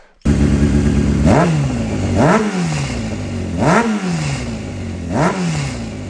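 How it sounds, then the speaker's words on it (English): An old, cold Honda motorcycle engine with a failing timing chain tensioner is blipped four times in steady rhythm; each short rev rises and falls over a loud, close idle with a light rattling vibration. "that is the biggest sign of a timing chain tensioner going, is the little vibration sound"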